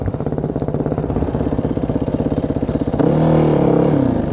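A Yamaha WR450F dirt bike engine thumps in a steady close rhythm, then revs up into a louder sustained drone as the rider pulls a wheelie.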